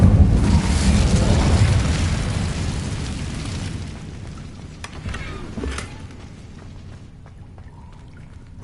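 A fire spell, Incendio, cast in a video game, bursting out as a loud roaring whoosh of flame that slowly fades, with a few sharp crackles and pops near the end.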